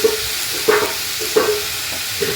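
Tomato chutney being stirred with salt in a pan, giving three soft scraping strokes with a light sizzle beneath, spaced evenly about a second apart, close and moderately loud with no talking.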